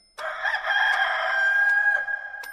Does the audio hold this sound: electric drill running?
no